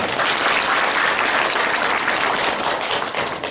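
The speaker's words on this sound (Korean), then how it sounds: "하나님께 영광의 박수 올리겠습니다." Loud, sustained applause from a large church congregation at a revival service, dense clapping filling the room without pause.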